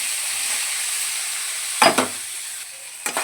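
Ingredients tipped into a hot pan while making an idli dish, giving a steady background sizzle with a couple of louder bursts of crackle as they land, close and moderately loud with no talking.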